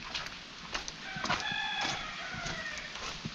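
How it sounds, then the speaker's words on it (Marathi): A rooster crows outdoors in a rural village after rain, its drawn-out call rising and holding over steady background noise, fairly close and clear. "पुणग्याचं कोंबडो आरवाक लागलो"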